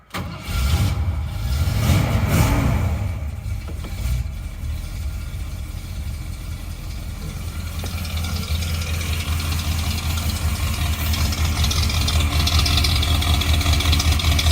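Rebuilt 400M V8 in a 1977 Ford F-250 Ranger XLT 4x4 cranks and starts, then settles into a steady, fairly loud, rumbling idle that runs on unbroken for the rest.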